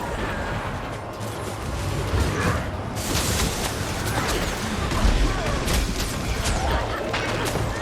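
Several sharp gunshots crack from a weapon in Guild Wars 2, firing in an irregular series over a busy, dense backdrop of game noise and faint voices.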